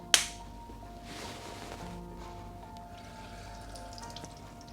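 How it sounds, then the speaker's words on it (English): A splash of water poured into a HyGenie dental cleaning device after drops of Dental Fresh, starting with a sharp knock and followed by a soft, steady pouring wash that fades under a faint background hum. "And a splash of water."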